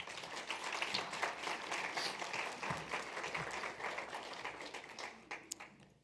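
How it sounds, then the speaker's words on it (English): An audience at an annual association membership meeting gives the staff another round of applause: steady, even clapping from a crowd a little way off, holding for several seconds before tapering off at the end. "they deserve another round of applause"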